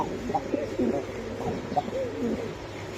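Blue checker Damascene pigeons coo in a soft, repeated low murmur, several overlapping calls close by with no talking.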